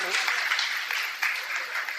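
An audience at a mushaira poetry gathering breaks into steady, moderately loud applause, with many hands clapping continuously for a couple of seconds.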